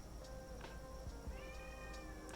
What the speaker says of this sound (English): Why are you yelling? My cat says hello, apparently.